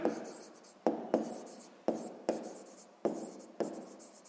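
A pen taps and scratches across paper as numbers are written, six or seven distinct strokes, each a soft tap followed by a fading scratch, quiet and close with no voices.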